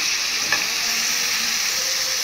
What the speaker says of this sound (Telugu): తర్వాత ఈ చికెన్లో కొంచెం పసుపు ఉప్పు వేసి బాగా ఏగనివ్వాలి